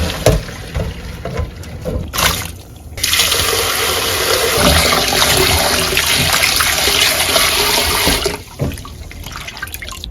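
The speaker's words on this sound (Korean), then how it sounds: "다 삶아졌으면 찬물에 씻어줄게요" Cold tap water runs steadily over boiled sweet potato stems being rinsed, a loud continuous splashing flow broken by brief pauses and handling noises near the start and end.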